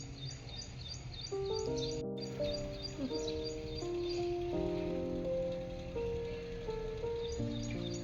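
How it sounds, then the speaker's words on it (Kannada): A bird chirps nearby in a series of short, clear tweets that repeat through the whole stretch, with a tonal melodic sound running underneath. "ಬರ್ಡ್ ನೋಡಿ ಬಂದಿಲ್ಲಿ ಕೂತಿದೆ."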